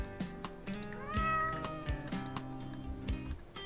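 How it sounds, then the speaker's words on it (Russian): A cat meows repeatedly in the video game Martial Law, several clear, drawn-out cries over background game music. "Иди сюда, кот."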